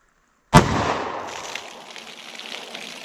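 A single sharp gunshot from a snub-nose .357 revolver firing Fort Scott TUI tumble-upon-impact ammunition, a loud abrupt crack near the mic followed by a long reverberating decay outdoors.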